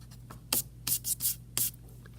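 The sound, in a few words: pencil drawing lines on paper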